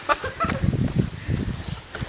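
Several chickens cluck and squawk on a farm in Denmark, busy overlapping calls close by, loud and continuous through the moment.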